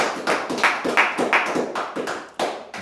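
Congregation applauding in a Montreal church: brisk, dense clapping in rhythmic surges, fairly close and steady for a few seconds with no talk.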